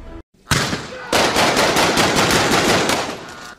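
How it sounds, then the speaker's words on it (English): Loud, rapid machine-gun fire from a rooftop across the way rattles continuously after a brief opening shot, a dense sustained burst close by with no talking. "gunfire coming from the roof across the way"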